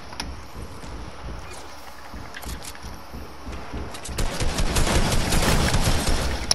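Gunfire in a shooter video game, with shotgun blasts. Rough, rumbling bursts of shots swell louder toward the end over a constant background din.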